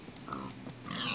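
A short pig grunt from the video game Minecraft, a couple of soft oinking snorts close by and fairly quiet, with no talking over it.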